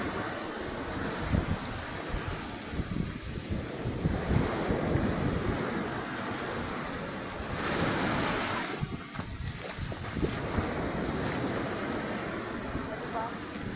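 Ocean waves crash and wash onto a beach in a continuous loud roar, with strong wind buffeting the microphone and a swell that peaks about two-thirds of the way through.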